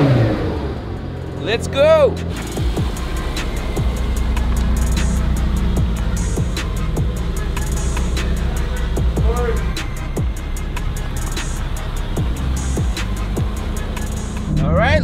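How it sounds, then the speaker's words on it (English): A Mercedes-AMG GT Black Series with a bi-turbo V8, revving loudly as it pulls away. A steady, close engine roar swells through gear changes, and people talk over it throughout. "this is a V8 AMG bi-turbo and the most powerful V8 AMG has ever built"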